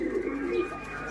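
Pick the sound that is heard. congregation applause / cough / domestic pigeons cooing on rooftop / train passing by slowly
domestic pigeons cooing on rooftop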